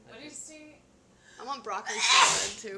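A person lets out one loud, sharp sneeze near the end, a breathy burst that follows casual talking voices close by.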